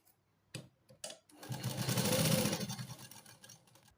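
A sewing machine runs in one steady burst of stitching on a kurti collar, preceded by a few short clicks and taps, close and fairly quiet with no talk.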